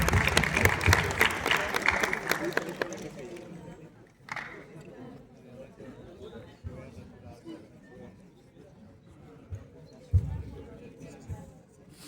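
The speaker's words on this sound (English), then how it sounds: "Please give a huge round of applause for them." Audience applause at a TEDx event at NIT Durgapur, a loud burst of crowd clapping for about three seconds that quickly fades, followed by scattered claps, shuffling and murmuring in the hall.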